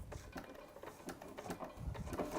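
A sewing machine runs a seam at a very short stitch length, its quick mechanical chatter coming in uneven bursts, fairly quiet and close, with no talk over it.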